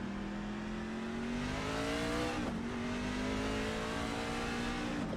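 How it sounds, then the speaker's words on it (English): A race car engine in the iRacing simulator drones loudly and continuously close up, its pitch climbing steadily through the gears with brief dips at two shifts. "you guys might be able to hear the sound of the car in the microphone"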